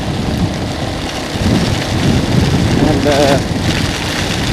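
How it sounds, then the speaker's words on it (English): Heavy typhoon downpour with strong wind and rumbling thunder in Guilin, a loud, dense roar of rain throughout while someone speaks briefly over it. "bloody windy, rainy, downpour, typhoon bullshit."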